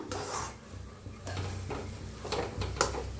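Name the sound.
mixing food in a pan on low gas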